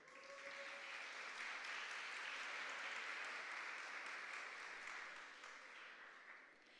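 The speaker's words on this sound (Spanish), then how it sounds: "le damos un fortísimo aplauso" An audience at a regional oratory competition final applauds steadily, a dense sustained clapping that holds for several seconds before easing slightly at the end, with no voices over it.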